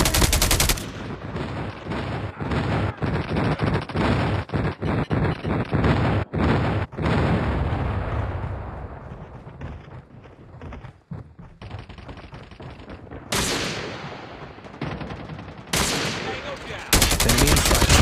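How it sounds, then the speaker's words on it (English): Airstrike explosions and rapid gunfire from Call of Duty Mobile pound continuously, dense and loud throughout, with bursts of automatic fire and heavy blasts stacking up, and a brief lull before renewed booms near the end. "Friendly airstrike incoming."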